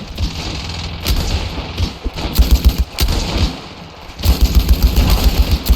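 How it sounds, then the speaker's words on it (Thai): Loud, rapid bursts of machine-gun fire rattle in quick succession, mixed with heavier thumps and booms, with no talking, in the video game Ravenfield during a World War I trench battle. "อะไรเนี่ยปืนกล"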